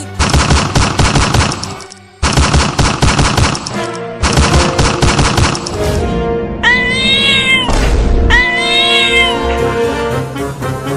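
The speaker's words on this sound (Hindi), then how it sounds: "ये बिल्ली बंदूक कैसे चला रही है?" Cartoon sound effects: rapid bursts of gunfire rattle in quick succession, followed by loud, drawn-out cat meows and yowls.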